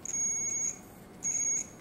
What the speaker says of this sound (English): verify that there's a beeping when we touch them together